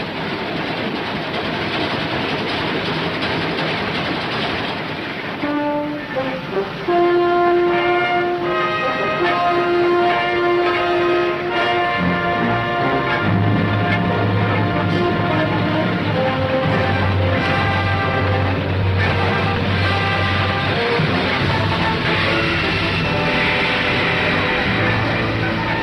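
A train rolls past in a 1964 wartime drama scene, with loud, steady rumbling and rhythmic clickety-clack of wagons, heavy low engine drone building midway, and music-like tonal layers over it.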